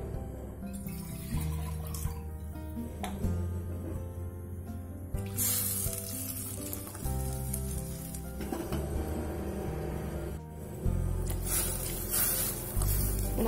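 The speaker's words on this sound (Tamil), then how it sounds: "நான் 2 டம்ளர் தண்ணி சேர்த்துருக்கேன். இப்போ நல்லா வந்து கொதிக்கட்டும்." Elephant yam curry with added water is heated on a high flame, giving a steady hissing and sizzling bubble with some clatter. Background music with changing tones plays underneath throughout.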